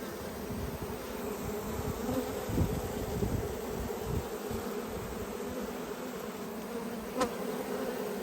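Honey bees buzz steadily around an open hive during a frame inspection, with brood and honey stores on the frames, a dense continuous drone close by with no talking.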